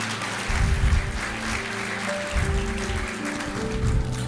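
Church congregation clapping in praise, a steady moderate patter of many hands filling the room, with low rumbling musical tones and swells underneath.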